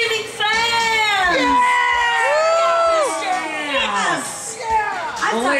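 A crowd of fans, many of them children, screams and cheers at a Star Wars Rebels themed stage show, with high whoops and shrieks rising and falling over a few seconds.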